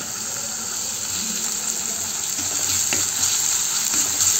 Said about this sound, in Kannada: ಸ್ವಲ್ಪ ಬ್ರೌನ್ ಆಗಬೇಕು ಈರುಳ್ಳಿ